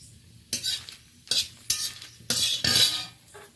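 Chilies fry in mustard oil as a utensil scrapes and stirs the pan in about half a dozen brisk, close strokes over a soft sizzle.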